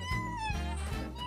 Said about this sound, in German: Oh, eine Katze.